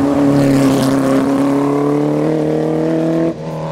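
A 1600cc Porsche 718 sports car engine drones loudly at a steady pitch, rising slightly before cutting off sharply near the end.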